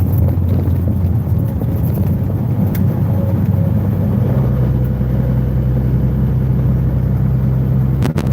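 A garbage truck rumbles past on a Louisiana road, a loud low engine drone with wind buffeting the microphone and a deeper tone swelling as it draws near.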